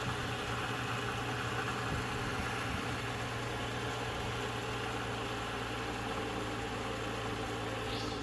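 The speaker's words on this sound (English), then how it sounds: "Let's start the car up." A car engine idles steadily just after an oil change, with a low, even rumble throughout, no voices, constant and fairly close.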